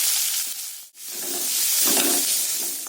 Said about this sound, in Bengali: সরষে একটা শুকনো লঙ্কা দিয়ে দিয়েছি এবং দুটো কাঁচা লঙ্কা দিলাম আর এক চামচে হলুদ গুঁড়ো